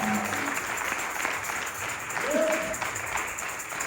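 At a Sunday church service, the congregation applauds the pastor's wife, a steady crowd clapping with a few voices speaking and calling out over it.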